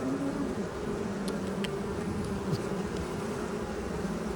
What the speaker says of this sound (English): Do you see how many bees are on these frames?